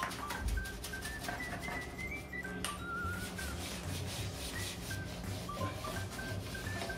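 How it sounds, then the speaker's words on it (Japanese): A brush scrubs a bathroom door after Kitchen Haiter bleach is applied, a steady close rasping rub that continues throughout, with faint high squeaky tones over it. "つけ置きなしでもう磨いていくだけにします"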